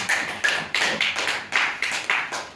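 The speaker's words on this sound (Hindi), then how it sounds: "ये ताली भी वो जबरदस्ती वाली हो रही है" An audience at a school event in Siwan, Bihar claps in a steady rhythmic beat, about eight evenly spaced sharp claps at close range with no talk.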